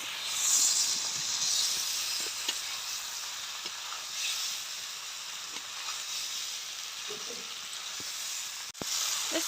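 Pasta sizzles loudly in hot oil over a high flame, a continuous close hiss with occasional clinks and scrapes as it is stirred; no one speaks.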